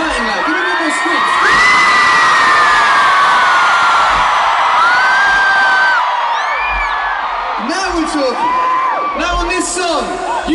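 A huge stadium concert crowd at a show screams and cheers, loud and sustained, with shrill whoops and rising yells swelling again near the end.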